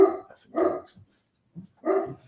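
Dogs barking indoors in three loud bursts with short pauses between, close by and alone without talk.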